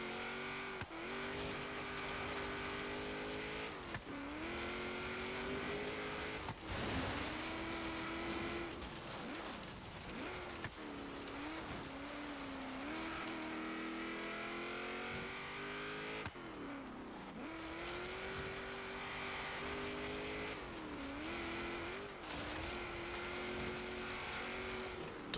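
A 1979 Chevrolet Camaro Z28 racing an autocross course in the Forza Horizon video game, engine note climbing and dropping repeatedly through shifts and corners, with a steady mid-level roar throughout.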